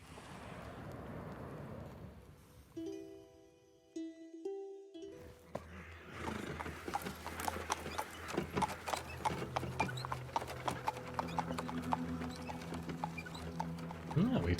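Horses at a post station in the video game Black Book, with hooves clip-clopping at a steady walking pace amid outdoor ambience after a brief tonal musical phrase near the start.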